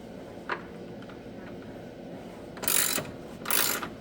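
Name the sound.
ratchet snugging door bolts on car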